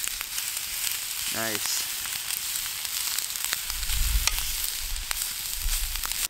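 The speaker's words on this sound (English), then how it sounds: "Get some steak in there." Steak frying on a camping stove outdoors in winter, a constant bright sizzle close by, with a short clank and a brief spoken remark partway through.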